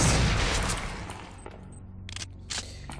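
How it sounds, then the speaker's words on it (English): Gunfire while shooting enemies in the sci-fi shooter System Shock 2, a loud burst at the start that fades into scattered quieter shots and game sounds. "And when you shoot at them from this distance, they only actually take one shot."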